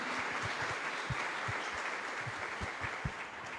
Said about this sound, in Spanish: Fuerte aplauso para Monseñor Faustino.